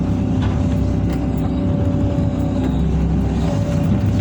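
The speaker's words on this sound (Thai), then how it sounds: "ตักดินใส่รถ" A Hitachi 5G excavator scoops soil and loads it into a truck, its diesel engine droning loud and steady throughout with faint clanks and no voices.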